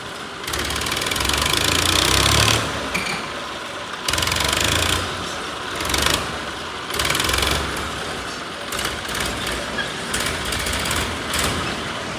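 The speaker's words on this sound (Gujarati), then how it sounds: "આમ જો લોડર બહાર રેતી પડી છે ત્યાંથી અંદર નાખે અને અંદર ટ્રેક્ટર નીચે પાથરે" A loader and a tractor are at work nearby, moving and spreading sand. Their diesel engines give a continuous loud rumble that rises and falls as they rev, with rattles and scraping mixed in.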